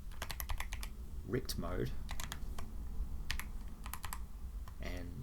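Typing code for p5.js on a computer keyboard, quick clusters of close key clicks in short bursts, with someone talking briefly in between.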